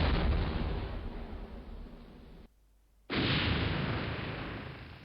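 Cannon volleys in the Civil War strategy game Battleground: Antietam, a loud sustained roar of booming fire that cuts to near silence briefly mid-clip, then resumes just as heavy.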